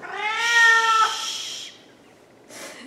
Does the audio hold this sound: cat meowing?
yes